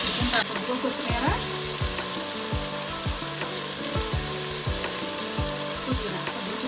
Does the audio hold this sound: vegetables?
yes